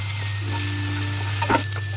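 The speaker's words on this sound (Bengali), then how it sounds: "রসুনটা একটু ভেজে নেব।" Garlic frying in oil in a pan for sour eggplant, a steady close sizzle over a low hum, with a brief clatter of stirring near the end.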